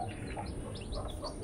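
A mother hen clucks softly among her chicks, with faint peeping calls over a steady outdoor background hum, distant and low in level.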